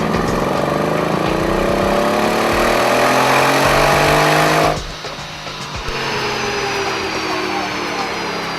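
A Mercedes E63 AMG S's hand-built 5.5-liter twin-turbo V8 roars steadily at high revs on a dyno, dropping briefly in pitch and level before settling back to a sustained drone.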